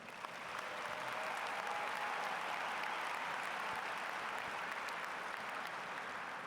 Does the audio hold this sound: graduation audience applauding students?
yes